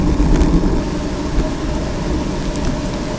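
Rain falling during a city bike ride on a sunny day, a steady broadband hiss of showers and wet road noise, loud and continuous throughout with no voices.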